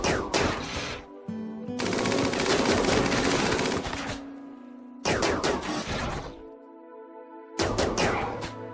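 Colonists firing guns in RimWorld, bursts of rapid gunfire separated by short quiet gaps, loud and close with a dense crackling texture.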